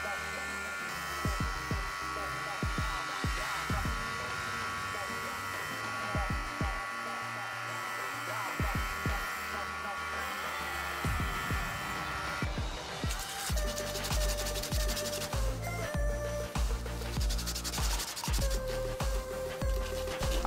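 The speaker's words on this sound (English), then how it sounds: "I then sanded it down to a circular shape." A purpleheart wood cufflink blank is sanded down to a circular shape, giving a continuous buzzing, scratchy rubbing from a sanding tool close by, with some irregular scraping throughout.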